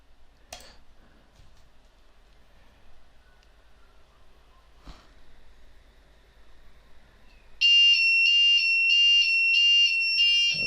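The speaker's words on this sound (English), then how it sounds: "there's our faulty buzzer" A faulty buzzer on an Arduino Uno alarm clock, with its top sticker removed, suddenly bursts into a loud, shrill, steady beeping tone after a quiet stretch broken by a couple of clicks.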